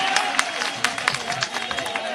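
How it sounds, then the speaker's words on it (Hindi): A crowd of party workers at a political rally applauds, with scattered claps and a rustling crowd murmur, moderately loud in the hall. "जरा जोरदार तालियों से उनका स्वागत करें आप"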